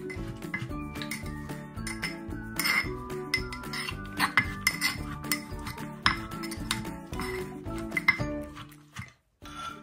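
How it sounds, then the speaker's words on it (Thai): Green papaya salad pounded in a mortar, with rapid clinking and clattering hits of pestle and utensils against the bowl at a busy, irregular rhythm, close and fairly loud, with no talking. "ใส่ส้มตำแล้วนะใส่มะละกอแล้วนะตำตำแรงๆสิครับ"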